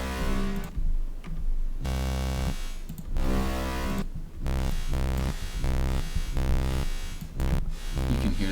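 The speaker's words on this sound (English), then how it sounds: "the plate, it has a pre-delay on it, so you can hit it, and the reverb will come in afterwards" Synth tone from Serum played through the plate reverb with a 60 millisecond pre-delay, so the tail blooms just after each hit. Loud sustained chords repeat in short phrases separated by brief gaps, with no talking.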